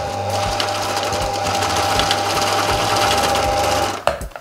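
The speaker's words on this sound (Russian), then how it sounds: "Мы их вставляем в швейную машинку. И будем шить шапочку." Sewing machine stitching a hat, running steadily and loudly with a fast mechanical hum and rapid needle clatter for about four seconds before stopping with a clunk.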